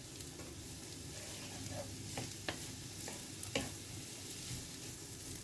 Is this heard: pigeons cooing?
no